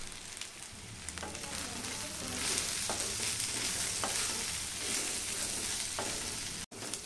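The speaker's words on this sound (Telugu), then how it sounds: "కారం, ధనియాల పొడి, కొబ్బరి కారం అన్నీ వేసుకొని కలుపుకోవాలి" Chili, coriander and coconut powders being stirred into ivy gourd frying in a pan, a steady close sizzle with scraping stir strokes running throughout, alone without voices.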